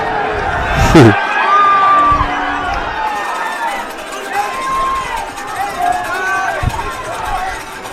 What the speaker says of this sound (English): let the crowd give him a raucous ovation